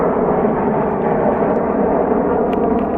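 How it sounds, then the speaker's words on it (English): Eurofighter Typhoon jets passing right overhead at an airfield, a loud, steady broadband roar that holds throughout with no voices, only faint ticks on top. "we've got a couple of Typhoons, believe it or not, coming right over the top"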